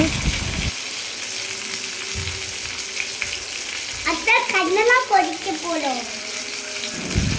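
Three masala-coated fish sizzle and fry together in a pan, a steady broadband hiss with occasional clatter, while a voice briefly talks over it midway.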